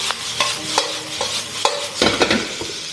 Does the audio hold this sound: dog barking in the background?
no